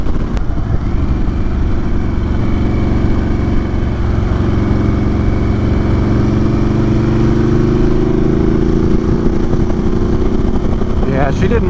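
Harley-Davidson Sportster S on the move, a loud continuous engine drone that slowly shifts in pitch as the bike changes speed, with a few faint exhaust crackles toward the end.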